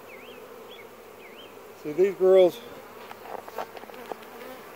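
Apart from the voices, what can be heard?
honey bees buzzing around a laying worker hive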